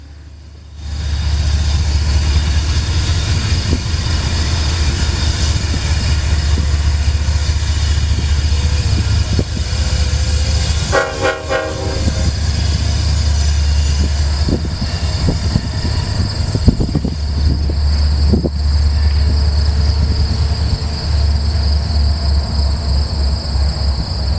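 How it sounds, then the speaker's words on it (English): An Iowa Interstate through train passes beside the Mississippi River heading west, a loud, continuous low rumble of wheels and engines filling the whole stretch, with a brief tonal horn-like burst midway. "This through train's headed west to its namesake state."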